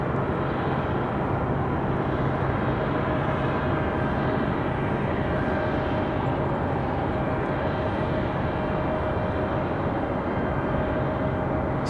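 An Airbus A320 jet airliner produces a constant, even engine roar with a faint steady whine riding above it, unchanging and unbroken throughout.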